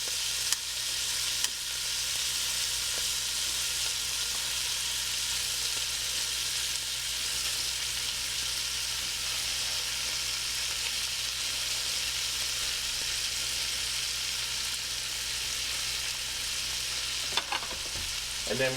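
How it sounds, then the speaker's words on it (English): Sausages for Dublin coddle fry in a pot with a steady, dense sizzle that holds level throughout, with a brief clatter near the end and no voices. "We're going to add half of the sausages."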